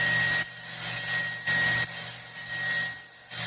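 A Doosan DNM 5700S CNC vertical machining center spindle spins at 10,000 RPM, giving a steady, loud whine with a constant high tone and a few brief dips in level.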